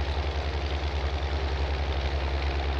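A tractor engine idles in Farming Simulator 19, a steady low throbbing rumble with a regular pulsing beat, loud and close and holding constant throughout with no voices.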